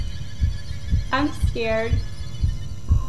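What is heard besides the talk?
heartbeat sound in video game Inside the Backrooms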